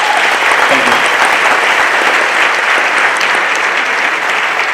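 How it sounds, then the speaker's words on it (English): A Las Vegas show audience gives dense, loud applause that holds steady throughout, with a faint crowd murmur beneath the clapping. "Give them a big round of applause, everyone"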